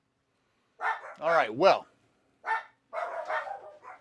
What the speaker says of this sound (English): my dogs decide to start barking